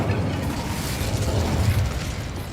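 A fire spell cast in the video game Hogwarts Legacy, a steady whooshing roar of flame with low rumbling bursts that stays loud and close for the whole stretch, with no voices.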